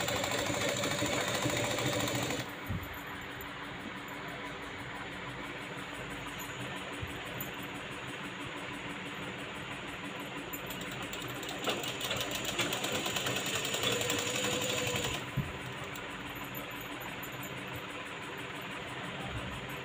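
A sewing machine stitches layered fabric for a drawstring with a quiet, steady mechanical whir that runs throughout, louder at the start and again in a slightly busier stretch toward the end.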